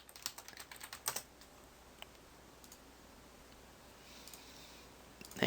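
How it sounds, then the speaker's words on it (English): Quick bursts of typing on a computer keyboard, close clicking keystrokes clustered in the first second or so, then sparse taps and a quiet stretch with no speech. "If I can type."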